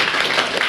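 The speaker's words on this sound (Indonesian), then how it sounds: "Tepuk tangan untuk si Gita." Students in a high school classroom break into a brief burst of dense clapping, loud and close.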